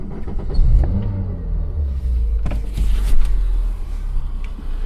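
Peugeot 106 car driving on a road, a low engine rumble with gear changes and some passing road noise, steady and close from inside the cabin.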